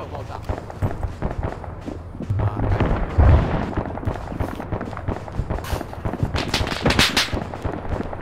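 Rapid bursts of gunfire and explosions in the military game ArmA, with sharp repeated shots, heavy blasts and scuffling movement close by and continuous across the whole stretch, with no talking.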